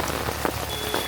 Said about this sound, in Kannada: ಬಿಸಿಲು ಬರ್ತಾ ಇದೆ, ಮಳೆನೂ ಬರ್ತಾ ಇದೆ.